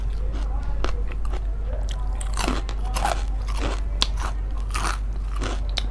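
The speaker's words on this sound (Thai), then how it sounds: "แคบหมู อืมกรอบแห้ง" Loud close-up crunching of crispy, dry Thai pork rinds (khaep mu) being bitten and chewed, with irregular sharp crackling bites repeating over several seconds.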